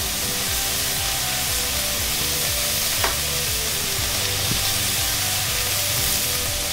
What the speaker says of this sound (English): Just going to give these a stir around.